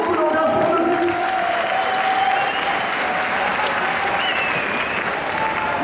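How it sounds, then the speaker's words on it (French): A crowd applauds steadily and loudly for several seconds, a dense wash of clapping with a few whistles mixed in. "On applaudit très fort les deux joueurs."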